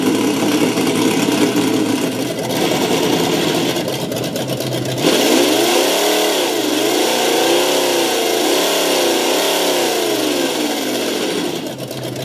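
Simulated engine sound from an ESS One Plus 2017 vehicle sound system plays loud and steady, first a constant drone, then a tone that rises and falls in pitch like revving, with no talking.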